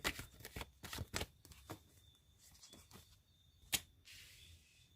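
Tarot cards being shuffled by hand, a quiet series of crisp riffling snaps and flicks in irregular bursts, with a sharper snap near the end and no talking.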